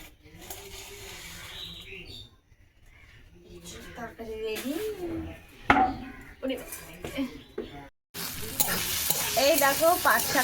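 Rice fried with onion and green chili crackles in a pan while a utensil scrapes and stirs it, the sizzle growing louder toward the end, with someone talking over the cooking.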